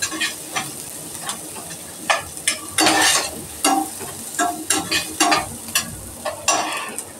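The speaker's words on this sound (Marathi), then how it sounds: "आधी कांदा चांगला परतून घेते गुलाबी रंगावर." Onion frying in a pan as a spoon stirs it, a loud close sizzle broken by repeated scraping strokes in an uneven rhythm, with no voices.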